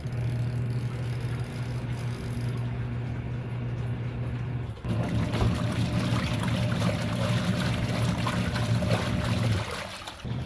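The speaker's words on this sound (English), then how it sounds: "So this washer machine has the wash and spin separate, so right now it's just going through the wash cycle." Twin-tub washing machine churning through its wash cycle, a steady low motor hum with sloshing, trickling water throughout, swelling louder partway through and dipping briefly near the end.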